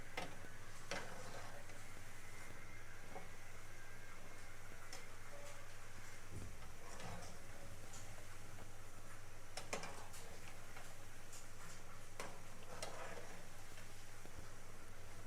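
Gulab jamun frying in hot oil gives a faint, steady crackle with scattered small ticks and pops, heard quietly without any talk.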